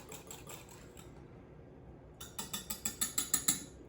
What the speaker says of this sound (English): I'm blending this together with my whisk.